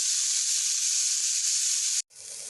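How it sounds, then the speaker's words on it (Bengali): Boiled cauliflower with salt and turmeric fries in a pan after a little grated ginger goes in, giving a loud, constant bright sizzle. It cuts out abruptly near the end and then returns softer. "ফুলকপিকে লাল করে ভেজে নিতে হবে।"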